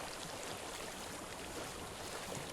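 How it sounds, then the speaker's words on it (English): Flowing water in the video game Hellblade: Senua's Sacrifice, a steady, soft rushing wash with no breaks or distinct splashes, faint and even across the whole stretch. "I hear water."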